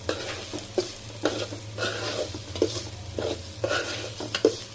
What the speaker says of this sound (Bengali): এখন আবার একটু নাড়াচাড়া দিয়ে নিই